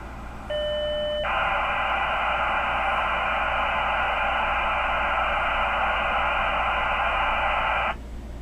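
Dial-up modem handshake over a magicJack line: a sharp tone burst, then a long steady hiss of hashing noise for about seven seconds before it cuts off, loud and alone.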